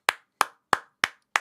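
Five sharp, evenly spaced hand claps, one about every third of a second, close and crisp with silence between them.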